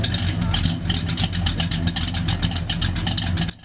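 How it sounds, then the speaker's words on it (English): A car engine with high valve overlap idles roughly with a loping, uneven chug, loud and close, cutting off abruptly near the end. "high valve overlap, which enables scavenging, also makes the engine idle like this"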